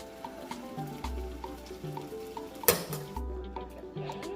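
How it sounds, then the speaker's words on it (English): A three-year-old stirring noodles in a pot, with soft scraping and clinking of utensil against metal over a faint sizzle, irregular stirring strokes near and quiet, one sharper clack partway through. "Oh, you are still stirring it."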